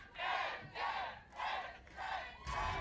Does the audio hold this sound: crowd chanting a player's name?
yes